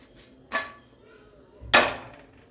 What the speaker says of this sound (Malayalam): അപ്പം നമുക്ക് കുറച്ചങ്ങ് മറിച്ചിട്ട് കൊടുക്കാം.